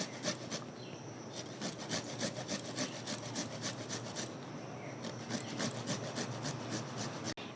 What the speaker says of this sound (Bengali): লাস্টে এবার আমি একটু আদাটা এইভাবে ঘষে দিয়ে দেব।